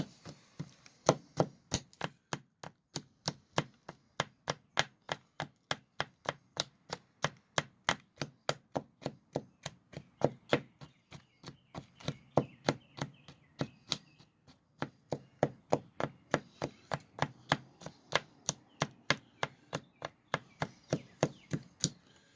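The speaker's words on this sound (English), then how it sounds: "I'm going to chop it up really good here." Fork chopping mousetrap bait: a long, steady run of sharp, evenly spaced chopping taps, close and distinct, with brief pauses between bursts and no talking.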